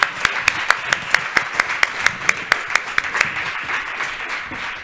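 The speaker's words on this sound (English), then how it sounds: "I would like to invite you to join me in the round of applause" A round of applause for conference panelists fills a hall, with steady, fairly close clapping from a modest audience and sharp individual claps standing out throughout.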